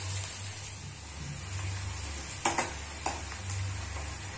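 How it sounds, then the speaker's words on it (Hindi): Finely chopped medium onion roasting in a pan, a soft continuous sizzle with a few sharp spoon-against-pan clicks as it is stirred, quiet and close. "इसे हल्का ट्रांसपेरेंट होने तक हमें रोस्ट करना है"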